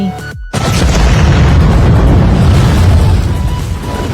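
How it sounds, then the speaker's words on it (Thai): A bomb hidden inside a gift detonates in a film scene, a sudden loud boom after a brief silence, then a long roaring rumble of blast and debris that slowly fades. "ไม่คิดว่าจะมีระเบิดอยู่ข้างใน"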